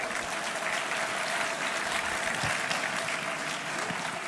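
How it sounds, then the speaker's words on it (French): An audience at a health conference on sleep and its disorders applauds two specialists, a steady, moderately loud wash of clapping hands that holds evenly throughout with no talk. "Je vous demande de les applaudir"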